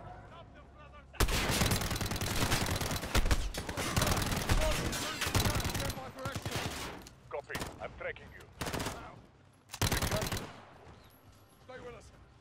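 Heavy gunfire in the video game Call of Duty Modern Warfare 2019, rapid automatic bursts and loud volleys coming in several waves with pauses between them, close and intense, with a player talking faintly in between.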